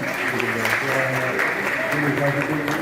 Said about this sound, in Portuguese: E uma salva de palmas para a professora Liliane Pedrosa